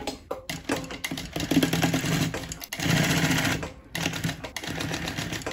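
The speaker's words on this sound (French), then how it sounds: "Nous allons maintenant venir coudre tout autour de la poche zippée" A sewing machine stitches continuously around a zipped pocket, its fast needle rattle running almost without pause with a couple of brief stops, close and fairly loud.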